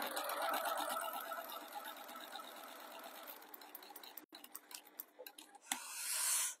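A straight-stitch sewing machine fitted with a walking foot stitches around the outside of a fabric storage container, whirring steadily at first, then running in short stop-start bursts.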